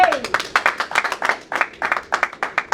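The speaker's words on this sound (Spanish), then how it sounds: "Den un aplauso al Señor." A church congregation applauds during a sermon, a dense run of rhythmic clapping from many hands, close and lively, continuing steadily throughout.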